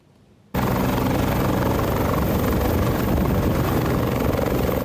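Helicopter from McMahon Helicopter Service flying, a loud dense rotor and engine roar that kicks in abruptly after a brief quiet moment and stays steady until it cuts off.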